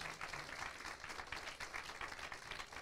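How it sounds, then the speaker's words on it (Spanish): Church congregation clapping in gratitude during a Spanish-language sermon, a dense, even patter of many hands that holds steady from start to finish at moderate volume. "Dale un aplauso de gratitud al Señor."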